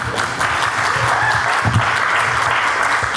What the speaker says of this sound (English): Let's save our clapping till the end,